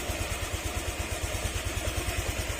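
A Honda Click scooter engine, freshly rebuilt and still under break-in, runs at a steady idle with a rapid, even low putter and light mechanical clatter, close and continuous with no talk.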